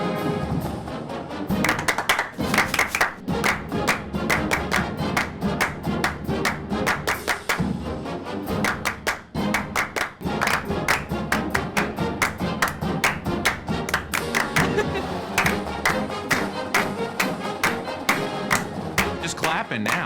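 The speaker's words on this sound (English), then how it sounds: "Just clapping now." Group of people clapping in steady unison, loud and close, dense rhythmic claps with brief pauses, at a sports event setting.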